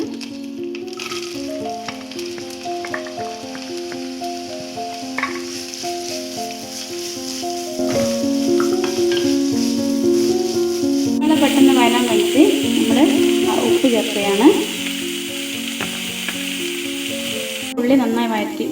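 Onions sizzle in oil previously used to fry chicken, loud and close, with a continuous hiss and periodic stirring scrapes. Background music plays throughout and grows busier partway through, and no voices are heard.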